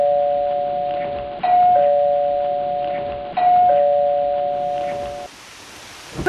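Doorbell chiming twice in a clear two-tone ding-dong pattern, loud and close, each pair of tones ringing out and decaying, followed by a brief quiet tail with a faint noise at the very end.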